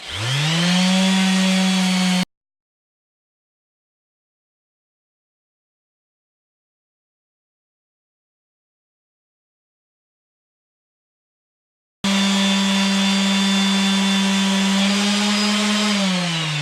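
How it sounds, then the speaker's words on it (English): Electric pad sander buzzing steadily against the wooden bottom of a faceplate-turned bowl, loud and close, with a strong even hum running for a couple of seconds, cutting out into a long silence, then resuming for several more seconds. "Now you see the bottom here, I just sand that off with a pad sander."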